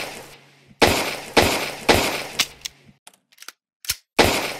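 Kinetic rifle shots in an RPG video game: four loud, sharp blasts at a steady rhythm, a pause with a few faint clicks, then another blast, close and with no voices.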